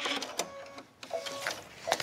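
A sewing machine stitching waxed canvas for an envelope clutch purse runs in a few short, quiet bursts of rapid mechanical whirring separated by brief pauses, with no talking.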